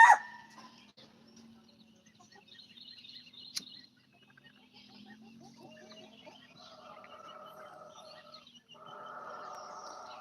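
A rooster on a chicken farm gives faint, drawn-out crows in the latter half, with a sharp sound near the start and small birds chirping quietly outdoors.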